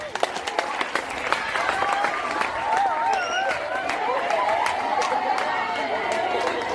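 Secondary school students applaud at a drug awareness campaign, steady clapping mixed with chatter and a few cheers from a crowd that holds at an even level throughout.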